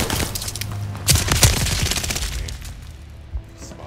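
Owen submachine gun in Call of Duty: Vanguard hardcore Kill Confirmed multiplayer: loud, close, rapid automatic fire with dense bursts and a heavier cluster of shots near the middle, tapering off to a lone crack at the end, with no one talking.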